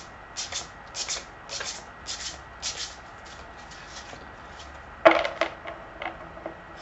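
Oracle cards are shuffled by hand during a card reading, making a run of short riffling bursts in a quiet room, then a sharper slap and a few softer shuffles near the end.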